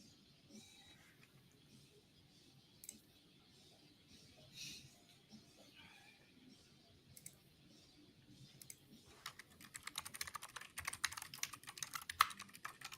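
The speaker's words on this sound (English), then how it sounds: "Got a loud keyboard, Justin." A loud computer keyboard clatters during a pool match stream, faint scattered keystrokes at first, then a dense burst of rapid typing toward the end, close-miked.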